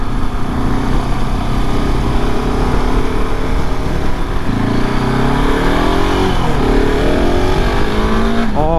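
A motorcycle being ridden, its engine droning steadily and loudly up close with pitch shifting as it changes speed, plus a rising rev near the end, under constant wind rush.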